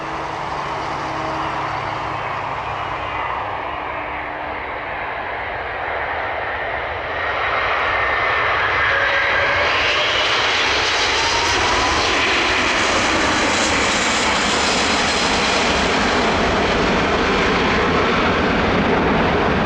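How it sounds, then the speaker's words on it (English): An Airbus A380 aborting its landing after touching down too late and going around: a loud, sustained jet engine roar that swells as thrust builds, heard from nearby without any talking. "This Airbus A380 aborting its landing attempt after touching down too late."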